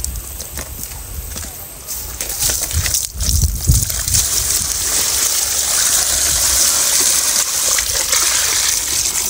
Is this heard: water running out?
yes